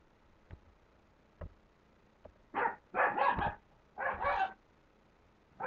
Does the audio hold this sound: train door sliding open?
no